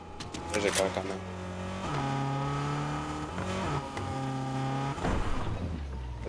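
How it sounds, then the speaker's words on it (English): A car approaches and drives in the Fortnite video game, its engine a steady sustained hum with shifting pitch, running continuously under loud game music and player talk. "There's a car coming."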